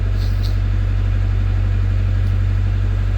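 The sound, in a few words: narrowboat engine running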